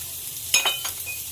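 Crushed garlic and chopped onion hit hot oil in a pan, giving a short, sharp sizzle burst that quickly settles into a softer, steady crackle.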